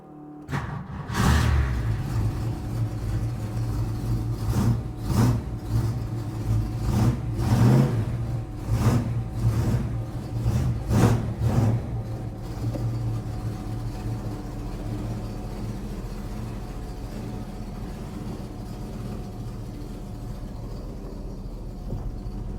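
A 1972 Ford Maverick engine cranks and fires, then runs steadily with revving that rises and falls before settling into an even idle, loud and close, with no talking.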